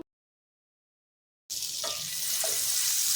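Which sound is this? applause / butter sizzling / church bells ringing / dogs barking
butter sizzling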